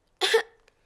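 A cartoon character from Peppa Pig lets out a single short, sharp cough, near and clear, followed by a faint trailing breath and silence.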